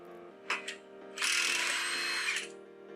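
A power tool whirs briefly, then a loud, sustained impact-driver burst of over a second spins off a car's CV axle hub nut, close up over a steady background hum.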